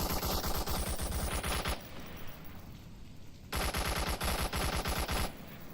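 Automatic gunfire in an Onward VR competitive match: a long, loud rattling burst, a short gap filled with quieter firing and noise, then another sustained burst of rapid shots.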